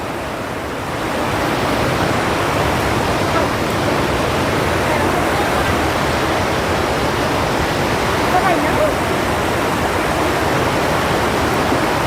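Floodwater of the Mahur river rushing past Kolabari after washing away an approach road and houses, making a loud, unbroken broadband roar that holds steady throughout with no voices.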